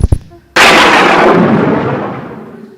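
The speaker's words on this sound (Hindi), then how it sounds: "कैसे बादल गरजे" A sudden loud thunderclap bursts out after a couple of faint knocks, then rumbles and slowly fades over a few seconds, close and powerful with no talk over it.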